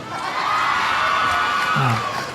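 A crowd cheering and shouting for the President of the Philippines, a loud sustained roar of many voices with whoops rising above it.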